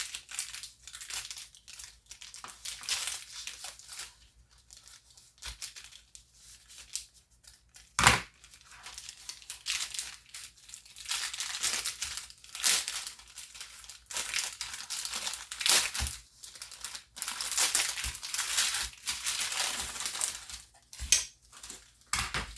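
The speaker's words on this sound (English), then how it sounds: "I place down parchment paper." Parchment paper is set down and handled while making a cherry pie, giving crisp crinkling and rustling bursts across most of the stretch, close and fairly loud, with no talk.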